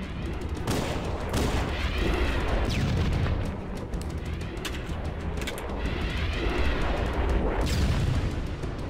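Sustained gunfire and explosive booms in Halo: Combat Evolved on Heroic difficulty, with dense, continuous shooting and heavy blasts filling the whole stretch at steady loudness, no talk over it.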